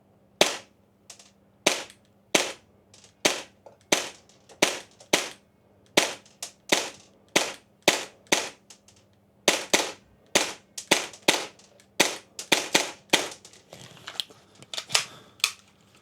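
Krytac MAXIM9 airsoft pistol firing a long string of sharp, snappy shots, each a crisp crack, spaced roughly half a second apart in a steady rhythm with a short pause midway, close and alone.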